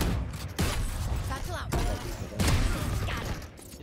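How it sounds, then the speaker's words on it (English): Gunfire in a video game: several sharp, loud shots in quick succession, each followed by a rumbling noisy tail, with a steady din of game action between them. "I heard another gunshot."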